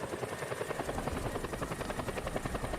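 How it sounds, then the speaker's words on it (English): Helicopter rotor thumping steadily in a video game, played with a PS5 controller, a continuous rhythmic whir filling the whole stretch with no talking. "It doesn't vibrate whenever you're on the helicopter."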